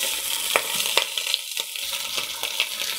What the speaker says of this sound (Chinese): 用慢火煎至两面虎皮形状，